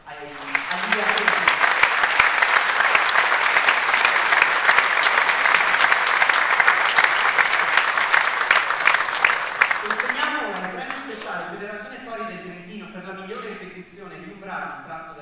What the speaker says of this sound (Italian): quindi un applauso agli attori